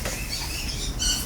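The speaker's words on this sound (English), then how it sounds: "This noise that you hear is a baby macaw, kind of a baby macaw tick." Baby green-winged macaw near weaning age making a ticking noise: a short, close run of soft, rapid ticks and patter with a brighter burst near the end, no voices.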